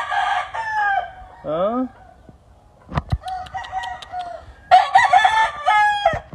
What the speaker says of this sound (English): One of the baddest pure round head roosters that's ever lived.